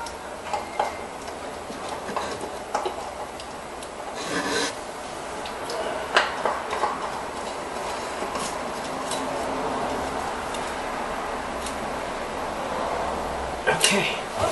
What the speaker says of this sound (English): now we screw it back on. As tight as you can make it by hand.